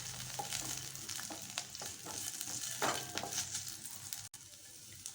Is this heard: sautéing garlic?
yes